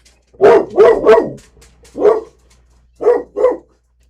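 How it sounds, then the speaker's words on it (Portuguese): A dog barks in a quick burst of three loud, close barks, then a single bark, then two more after short pauses, with no other sound around them. "Eu vou ter que pausar porque o Zeca resolveu latir"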